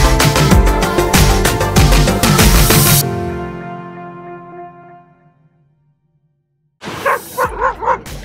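Several dogs barking loudly in quick succession at a dog beach, then a lull as the noise fades, followed by another burst of yappy barks.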